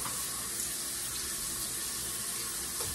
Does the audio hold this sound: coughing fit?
no